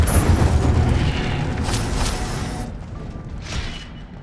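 An Incendio fire spell is cast in Hogwarts Legacy, a loud whooshing burst of flame with a deep rumble that fades, followed by a couple of softer bursts.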